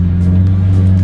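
Lamborghini Murcielago V12 engine on the narrow, twisting Stelvio Pass mountain road, a loud close steady low drone with strong harmonics held throughout, no voices.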